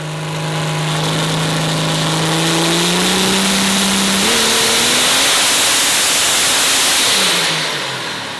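A 3000+ horsepower diesel engine roars under full load on a dyno, its loud droning note climbing in pitch as it revs up, then fading at the end of the pull.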